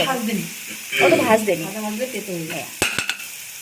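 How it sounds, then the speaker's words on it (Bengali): Garlic, chili and ginger fry in hot oil in a pan, a steady close sizzle with stirring scrapes and a couple of sharp clacks near the end, while a person talks over it. "এতে রসুন লঙ্কা আর আদা এখন দেওয়া ভাজি"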